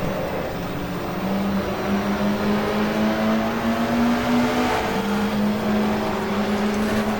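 Touring race cars from the 1987 British Touring Car Championship at Silverstone, engines roaring loud and close with rising and falling pitch as gears shift, several cars screaming past in sustained high-revving bursts.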